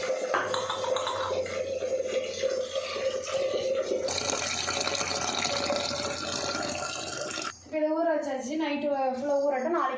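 Water runs steadily from a tap, splashing and trickling as mint leaves are rinsed, and a voice speaks briefly near the end.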